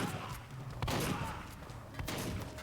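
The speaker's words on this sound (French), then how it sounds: "Sacré fusil à pompe, hein." Heavy shotgun blasts in Werewolf The Apocalypse Earthblood, a few booming shots close by amid combat din and muffled voices.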